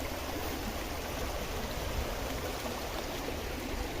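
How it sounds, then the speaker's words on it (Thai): Steady broadband rushing of flowing water, even and continuous throughout, moderately faint with no voices. "น้ำไหลลงพี่น้อง"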